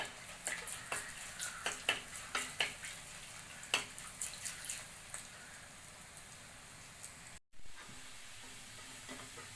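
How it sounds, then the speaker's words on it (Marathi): Dahi vada fritters frying in hot oil over a medium flame, a soft, steady sizzle and hiss with scattered small pops, fairly faint and heard alone. "तळून घेऊया चांगले गोल्डन ब्राउन होती असे आपण हे तळून घेणार आहोत"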